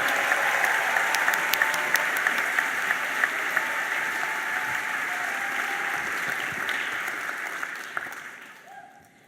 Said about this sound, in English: Give a lot of love. Put your hands together.